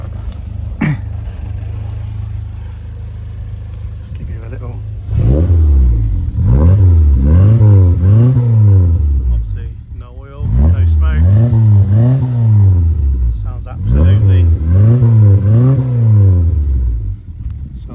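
A 1275cc rally-inspired Mini engine starts from stone cold with a short crank, then idles roughly and revs hard in repeated rising and falling bursts, loud and close.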